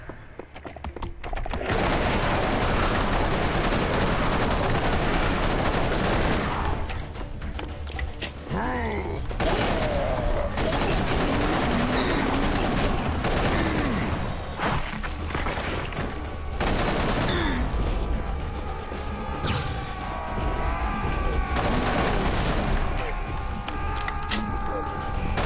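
Rapid rifle fire rattles continuously through a Serious Sam 3: BFE fight, dense and loud with creature cries and explosions layered in, as a player talks throughout.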